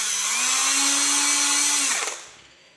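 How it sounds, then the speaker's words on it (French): A repaired cordless drill motor whines steadily at high speed for about two seconds, then is released and spins down to quiet, loud and close with no talking. "j'appuie dessus et on voit bien que maintenant cette perceuse fonctionne parfaitement"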